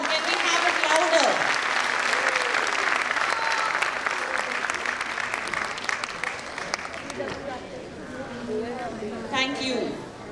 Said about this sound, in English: Let's clap for them. Come on, can we have it louder?